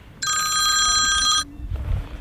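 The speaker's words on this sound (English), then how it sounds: "why is my phone ringing?" A phone's electronic bell ring sounds once for about a second, bright and close, while fishing at Merrill Creek Reservoir, New Jersey, followed by low rustling.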